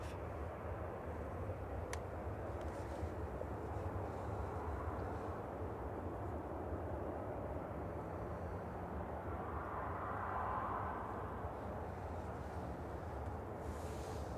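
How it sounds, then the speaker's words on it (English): An easyJet Airbus A320-200 arriving from Belfast at Manchester Airport drones overhead as a steady, moderately distant jet rumble that lingers evenly throughout, with no talk. "This is Airbus A320-200 GEZUN, Guzan, flight 2714."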